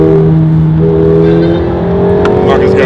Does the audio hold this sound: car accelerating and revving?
yes